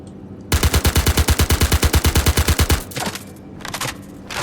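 A video game gun fires a rapid automatic burst of about twenty evenly spaced, loud, close shots, then stops, and a few fainter scattered shots and echoes follow.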